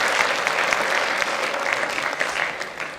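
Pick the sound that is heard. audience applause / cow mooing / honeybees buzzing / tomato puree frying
audience applause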